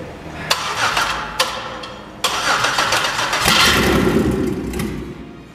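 A car engine cranks with a few sharp clicks, then fires up and runs with a steady mid-pitched roar, loud and close, during a computer programming session on the engine.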